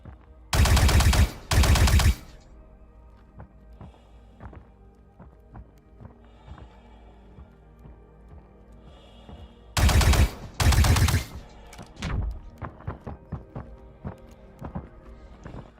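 Gunfire in Star Citizen: two loud bursts of rapid automatic shots up close, separated by a long quieter stretch of footsteps and faint clatter, followed by scattered lighter thuds.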